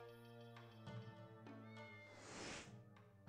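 A cat in the PS2 video game Onimusha 2 gives a drawn-out, tonal meow that rises and wavers over about three seconds, clear and upfront within quiet game audio.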